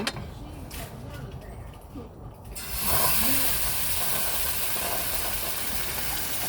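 A camping stove cooking sourdough pancakes gives a steady hiss that swells louder about midway and holds, with people talking over it.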